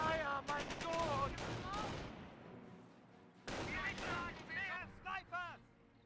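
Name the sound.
gunfire in the video game Company of Heroes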